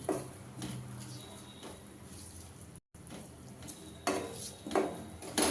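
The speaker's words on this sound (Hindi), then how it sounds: "एक से 2 मिनट तक यहाँ पे मसाले को भूनते हैं" Spices and onions are stirred and roasted in a pan, giving faint, sparse scraping and clinking strokes over a quiet background, with a few louder clatters toward the end and no talking.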